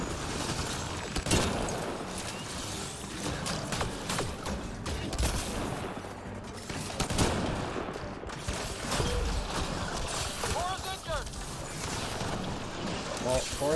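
Sniper rifle fire in the video game Mass Effect Andromeda: dense combat with repeated gunshots and mechanical clatter, plus a voice talking over the battle.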